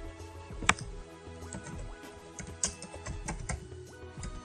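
Computer keyboard keys are tapped at an uneven pace to enter text in Photoshop, close crisp clicks with a few louder strikes and quiet gaps.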